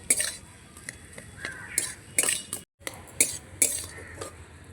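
A spoon stirs a potato filling with lemon juice for crisp kachori, giving intermittent clinks and scrapes against the pot with brief quiet gaps, close and fairly soft.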